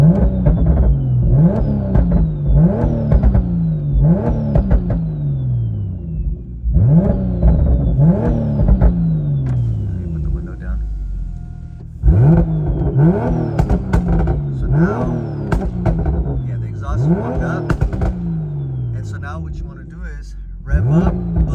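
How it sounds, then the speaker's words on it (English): A BMW B58 engine with an open exhaust revs repeatedly in a steady pattern of rises and blips, loud and close, with someone talking between the revs. "I'm just revving just to get the exhaust warmed up"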